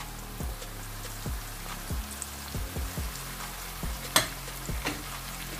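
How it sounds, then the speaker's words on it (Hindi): Tomatoes and green chillies frying in a pan with bitter gourd and onion, a steady close sizzle broken by repeated scraping stirs and a sharp clack near the end. "2 मिनट के लिए इसको भी हम भूनेंगे।"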